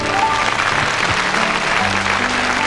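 A studio audience at the children's TV show École des Fans with Jacques Martin claps steadily and loudly, a dense, continuous applause with no voices over it.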